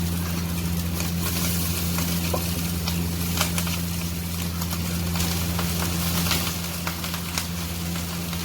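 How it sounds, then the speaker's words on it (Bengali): Rice frying in a pan in a home kitchen, a steady close sizzle running throughout over a constant low hum, with faint scrapes and stirring clicks scattered through it. "ভাত ভেজে দিচ্ছি, ছেলে মেয়ে খেয়ে নেবে"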